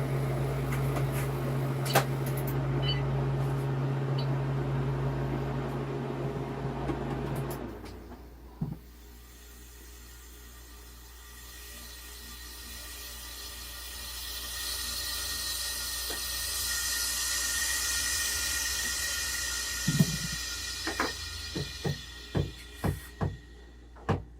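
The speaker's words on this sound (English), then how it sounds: "I'm gonna stop the freeze dryer." A freeze dryer hums and hisses steadily, cutting to a quieter whirring hiss after a few seconds as it is stopped, with a few sharp clicks and taps near the end.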